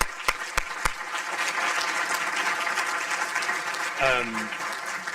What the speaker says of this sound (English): Let's give another round of applause to Jeff, right?